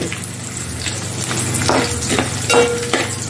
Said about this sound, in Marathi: आता मी इथे पसरट भांडं घेतलंय, त्यामध्ये साधारण अर्धा कांदा फोडणीसाठी घातला।